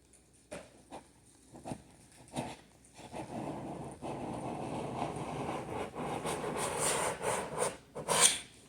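A sharp hand scraper rasps across a damaged spot in an oak floor, first in short separate strokes, then in faster continuous scraping that grows louder, close up with no talk.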